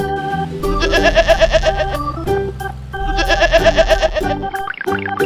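Two long, wavering bleats from a sheep, each a trembling sustained call laid over playful children's music, close and prominent.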